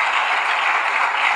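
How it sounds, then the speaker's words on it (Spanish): Church congregation applauding together, a dense steady patter of many hands clapping, fairly loud and unbroken for a brief moment with no voices. "denle un aplauso al Rey por eso"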